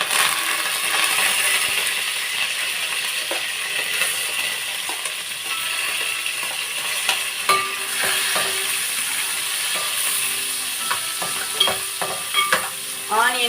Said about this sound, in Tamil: ஆனியன் கொஞ்சம் நல்லா இதாகட்டும், ஃப்ரை ஆகட்டும்.